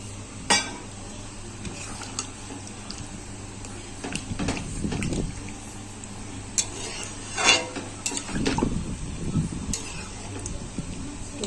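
Water is poured into a pan of soybean chicken curry and a metal spatula is rinsed and scraped against the pan, giving intermittent clinks and scrapes over a steady low cooking hum.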